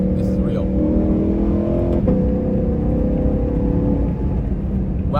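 A Ford Mustang GTD's engine pulls hard under acceleration, its loud, rising drone heard from inside the cabin, with a brief shift-like break before the tone climbs again.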